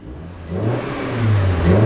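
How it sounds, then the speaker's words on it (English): A 2001 Mazda MX5 Miata's engine is revved while parked, its note climbing in a short, loud rising pull that stands alone with no speech. "We'll rev it up, let you hear the engine."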